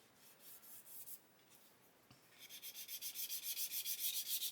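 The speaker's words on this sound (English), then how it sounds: "Just wondering if a gentle sand in the middle, it just means it's going to be concave by like a thou." Light sanding of a turned aluminium part for a 1/32 scale Fokker E.IV model: a few soft rubs, then a steady run of quick, even back-and-forth strokes that grow louder and more rhythmic, close up with no talking.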